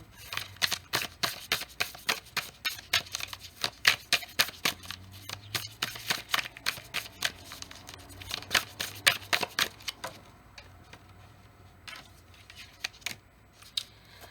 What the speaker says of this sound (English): I'm going to pull out an analogy card and see what message we have for you